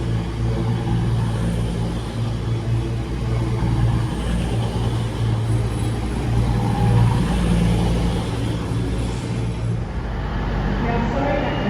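A Cross Country passenger train, unit 220002, rumbles into a platform at Stoke, a loud steady diesel drone with underfloor engine hum, while someone talks over it.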